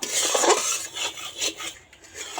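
A spoon stirs caramel in a pan for Bengali vapa puli pitha, giving close metallic scraping and clinking strokes in a quick, uneven rhythm with no talk.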